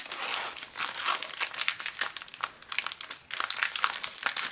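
Crinkly plastic foil wrapper of a Magic: The Gathering Conspiracy: Take The Crown booster pack being torn open and handled, close up, with rapid irregular crackles and crumpling in quick bursts, loud and alone.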